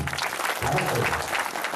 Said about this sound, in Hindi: अब तालियां तो सबने बजा है